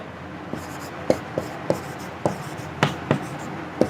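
A pen writes out a chemistry calculation on paper, producing a series of short, distinct scratching strokes and taps at uneven intervals, close and fairly clear over a quiet background.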